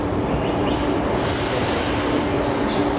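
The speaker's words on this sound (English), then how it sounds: "But this train is leaving in 2 minutes." A train at a station rumbles steadily nearby, with a high metallic wheel squeal rising over the constant rolling noise.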